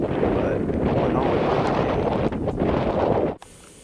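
Strong wind roars across the microphone on the summit of Mount Whitney, a loud, continuous buffeting that cuts off abruptly near the end.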